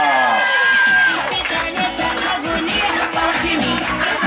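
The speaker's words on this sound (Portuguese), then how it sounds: "palmas pra galera!" Party guests at a child's birthday in São Paulo cheering, whooping and clapping together in a loud, lively crowd, with children's shouts rising above the noise.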